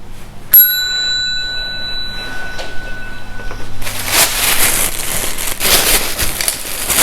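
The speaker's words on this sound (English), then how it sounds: "I'm going to ring the food bell." A food bell rings with a sharp metallic ding at the start and a ringing tone that fades, followed by louder clattering and rustling bursts, all fairly close.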